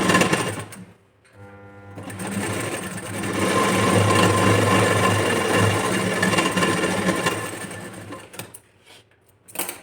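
A sewing machine stitching a blouse strip runs in a sustained mechanical whirr for several seconds after brief stop-start bursts, then cuts out near the end.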